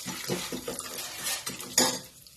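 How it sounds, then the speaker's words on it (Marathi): Popcorn kernels with a pinch of turmeric being stirred in a heated pot, a busy run of close scraping and rattling against the metal with a sharper knock near the end, no voices. "आता हे चांगलं एकसारखं हलवायचं."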